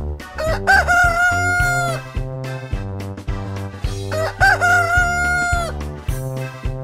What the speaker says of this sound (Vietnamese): đó chính là con gà trống đấy các em ạ